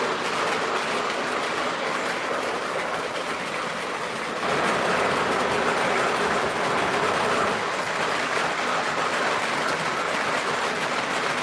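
A model passenger train runs steadily along its track, making a continuous rolling rumble with a faint clickety-clack that stays even throughout, with no talking.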